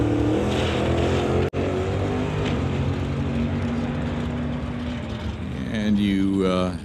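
A drag race car with a small block Chevy engine rumbles and revs continuously at a drag strip, loud and steady, with a brief dropout and a sharper rising engine note near the end.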